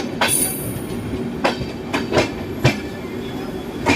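Train rolling along Indian Railways track near Lucknow Junction while overtaking the Doon Express, heard from inside a new 3rd AC Garib Rath coach: steady low rumble with sharp periodic clacks and thumps from the wheels.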